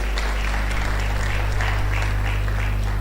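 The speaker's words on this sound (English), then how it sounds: "Please a round of applause for yourselves." Undergraduates and guests at a food science and technology induction ceremony clap together, a moderate, even patter of applause over a loud low hum, with no voices on top.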